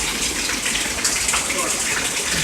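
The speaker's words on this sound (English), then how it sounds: "Look how much it's raining. It's raining hard." Heavy rain pours down in a steady, dense broadband hiss around someone outdoors beside an open car, continuous and close for the whole stretch, with people talking over it.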